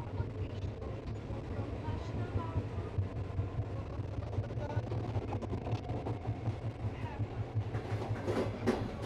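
Barasat–Hasnabad local train running toward a single-line stretch, a steady low rumble and rattle of the carriage continuing throughout at moderate level.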